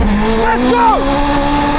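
A Honda Integra Type R and a Porsche 918 Spyder launch in a drag race. Loud engines rise in pitch, with a brief tire squeal and some talk over the top.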